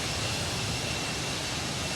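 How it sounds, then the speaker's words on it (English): Airbus A319 jet engines in a flight simulator game make a continuous, even broadband roar, steady and fairly loud throughout, with no voices over it. "The engines sound really nice"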